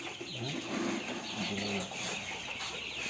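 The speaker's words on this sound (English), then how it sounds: "These are broilers for meat." Broiler chickens raised for meat cluck and chatter together during their morning feeding of poultry pellets, a busy, steady flock sound with overlapping calls close by.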